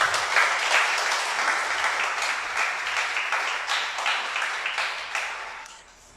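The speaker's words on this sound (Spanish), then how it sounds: "Vamos a darle un aplauso a nuestro Señor." Church congregation applauding during a Sabbath service: a dense, steady wash of many hands clapping that holds evenly, then thins out and fades at the end.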